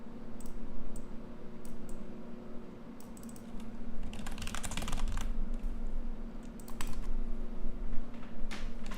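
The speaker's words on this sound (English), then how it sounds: "Lord have mercy on my typing" Rapid typing on a computer keyboard, with uneven bursts of close, crisp key clicks over a steady low hum, a few heavier clusters mid-way, and no talking.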